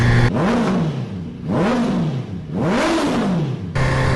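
A Honda CBR 650R with a 650cc inline-four engine and aftermarket exhaust revs three times in succession, each rev swelling to a high-pitched wail and falling back, close and loud with no talking.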